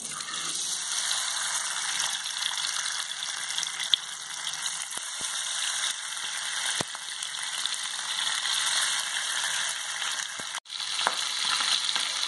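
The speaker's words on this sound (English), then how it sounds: "Yeah, it's getting fried" Pabda fish frying in hot mustard oil in a pan, a steady dense sizzle throughout with a few faint clicks and taps, no voices.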